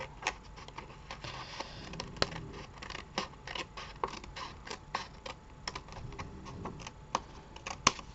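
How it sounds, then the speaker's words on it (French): Scissors snip through paper while pages are trimmed for a handmade mini album, sounding as quick, sharp, close clicks at an irregular pace, some louder than others. "Un coup de ciseau et..."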